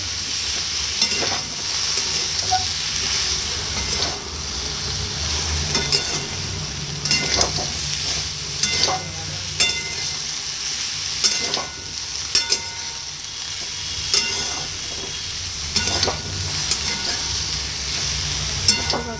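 Spices and mustard paste fry in a pan, with a continuous close sizzle and repeated spatula scrapes and clinks as the mixture is stirred, and no talking.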